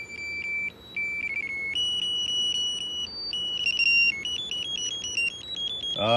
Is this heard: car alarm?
yes